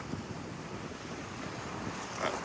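Ocean waves wash onto a beach in João Pessoa, Brazil, making a steady broadband surf roar with wind buffeting the microphone, continuous and fairly close with a slight swell near the end.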